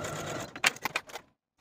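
A sewing machine stitches dress facings with a 5/8 inch seam allowance, heard as a brief near burst of motor whir and needle rattle that stops abruptly into silence.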